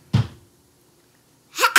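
Two sneezes, one short and close at the start, then a sharper double burst after a pause of more than a second.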